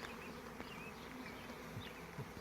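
A male honeybee drone from a swarm buzzes up close, a continuous insect drone with passing pitch shifts, heard alone.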